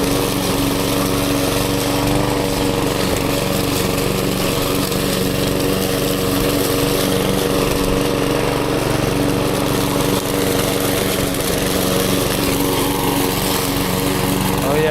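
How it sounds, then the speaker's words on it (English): A lawn mower cuts grass on a slope, its small engine droning loud and close at a steady pitch for the whole stretch, with slight surges as it moves back and forth. "Mow this little bit now."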